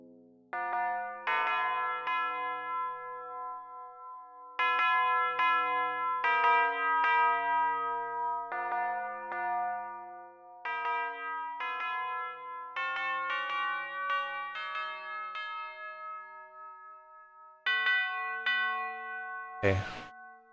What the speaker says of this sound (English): That sounds like a fight bell